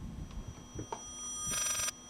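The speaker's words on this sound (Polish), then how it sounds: "Dźwięk przerywanego telefonu." A short electronic telephone ring from a video game, Layers of Fear, bursts out once after a few faint clicks, an interrupted buzzing trill in a quiet space.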